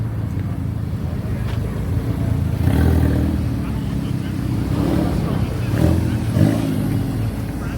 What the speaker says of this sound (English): Mustang whipping out.